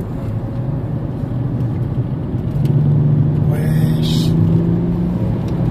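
A car drives fast on the Nordschleife track, with a loud, steady engine drone and road rumble from inside the cabin that builds as it accelerates. A brief exclamation is heard over it.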